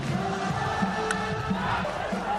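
A large crowd roars steadily through a baseball stadium at a World Baseball Classic game, a dense, continuous wash of cheering without clear breaks.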